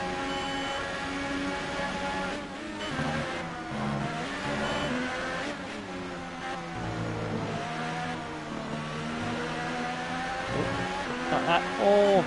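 Engine of a McLaren Formula 1 car in the racing game F1 2018 at the Hungarian Grand Prix, a loud, continuous whine rising and falling with gear changes and throttle, with a voice talking over it.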